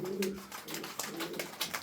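Sport pigeons (racing/homing pigeons kept in a loft) cooing nearby in repeated soft low throaty phrases, with a few faint chirps mixed in and no talking.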